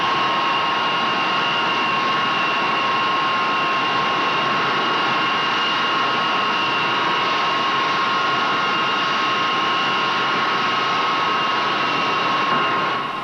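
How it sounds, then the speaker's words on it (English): A Hawker Siddeley Buccaneer jet aircraft flying, a loud, steady engine drone with a sustained whining tone held evenly throughout. "This is the British Buccaneer, produced by Hawker Siddeley."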